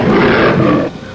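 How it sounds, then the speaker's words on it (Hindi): Fierce lion growl, loud and close, a deep rumbling roar holding for most of a second before dropping off abruptly, set in a horror tale about a black lion emerging from a grave. "इतने में उसी कब्र से किसी भयानक शेर के गुर्राने की आवाज आई"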